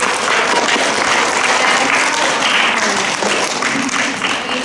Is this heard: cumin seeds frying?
no